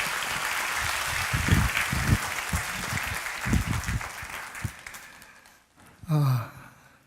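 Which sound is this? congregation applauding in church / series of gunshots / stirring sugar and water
congregation applauding in church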